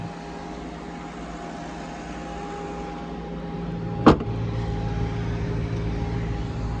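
A Maserati GranTurismo S with a 4.7-litre engine runs at a steady, low, droning hum for about seven seconds, with a single sharp click partway through and no talk.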